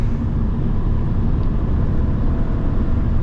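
A 2012 Mercedes SL500 with a 435 hp engine cruises on a highway at about 160 km/h, giving a loud, steady broadband roar of engine, tyre and wind noise that holds unchanged throughout.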